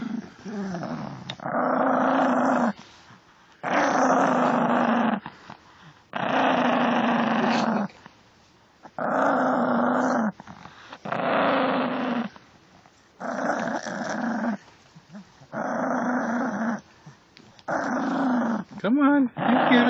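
A dog growls in repeated long bursts, each lasting a couple of seconds with short gaps between them. A person speaks over the growls, teasing the dog.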